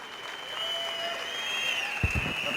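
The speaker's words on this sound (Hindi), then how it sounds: "गहलोत जी के लिए एक जोरदार ताली।" An audience at a stage event gives Kamlendra Singh Gehlot loud, steady applause that fills the whole moment, with a bright whistle-like tone above it and a couple of low thumps near the end.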